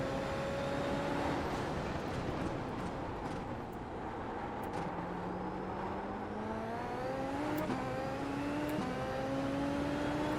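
Super Formula open-wheel race car in iRacing sim racing, engine revving up and down through gear changes, rising whines repeating over a steady loud drone with no talking.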